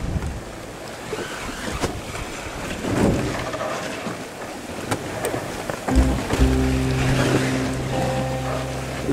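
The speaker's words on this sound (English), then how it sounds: "Wind's still blowing reasonably hard, although it is from behind us" Hard wind blows across a sailboat at sea off Scotland, with rushing gusts buffeting the microphone over the wash of waves, and a steady low engine-like drone joining in near the end.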